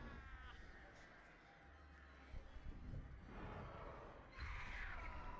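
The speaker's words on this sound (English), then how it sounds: "Get the crows." Crows caw repeatedly in the horror game Dead by Daylight, harsh calls rising several times over a steady game ambience with whooshing movement, with no talk over them.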